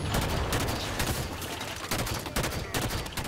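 Rapid bursts of gunfire from the video game Halo 5 Guardians, loud and close, with repeated sharp shots and short gaps between volleys, no talk over it.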